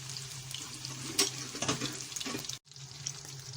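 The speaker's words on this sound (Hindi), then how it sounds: "अब हम इन्हें शैलो फ्राई करेंगे। अच्छा सा कलर आने तक।" Gola kababs shallow frying in a pan sizzle continuously and close up, with a brief cut and faint clatters of movement, no speech.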